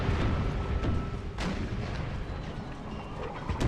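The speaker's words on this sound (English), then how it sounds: "The European Firelock armed citizenry getting blown apart by canister on the flank." Artillery firing canister shot in Empire Total War, a dense wash of booming cannon fire and rumbling battle noise, with one sharper crack standing out.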